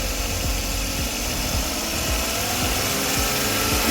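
A Suzuki DA64W automatic 4x2 wagon's turbo engine running close up, a steady mechanical drone with a whining hiss layered over it and repeated short whooshing surges, no voices.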